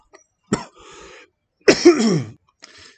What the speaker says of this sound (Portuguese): Desculpe, eu tive uma crise aqui de tosse.